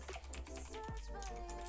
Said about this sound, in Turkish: Bak sesi de belli, burada yazayım.